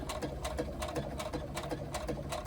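A sewing machine stitches a seam on a small pouch, a quiet, even rapid chatter of needle strokes running continuously.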